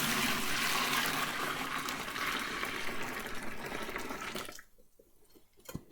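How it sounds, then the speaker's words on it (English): Liquid pours into a foot bath basin in a steady, splashing stream for several seconds, then cuts off, leaving a few faint drips and small clinks in near quiet. "I'm going to pour the liquid in the foot bath"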